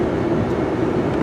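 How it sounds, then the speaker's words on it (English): Rail freight cars roll by gravity down the classification hump at Bailey Yard, making a loud, continuous low rumble and roar that holds steady through the short stretch. "once that pinner up at the top releases that pin, those cars just start, Mother Nature takes over, and it's all gravity that pulls them down the hill"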